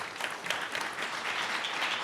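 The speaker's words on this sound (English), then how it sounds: "applause for our panelists" Audience applause for the panelists at a Trans-Caspian policy forum, a soft, even patter of many hands heard faintly and at a distance.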